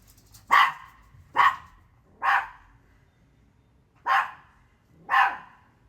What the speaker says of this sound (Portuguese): Acho que a Meg vai ter que ficar latindo no fundo